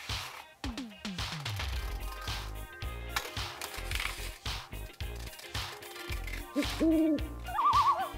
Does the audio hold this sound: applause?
no